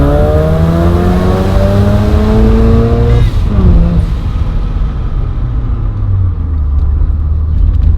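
A 1991 Mazda RX7 Turbo II rotary engine revs loud and close from inside the car, with steady rising harmonics, a brief gear-change dip near the middle, then pulling hard again.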